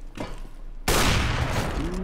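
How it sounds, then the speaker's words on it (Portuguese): A sudden loud gunshot in CS:GO bursts in after a quiet start, followed by a sustained roar and ringing tail from rapid fire. "Oh, que tiro!"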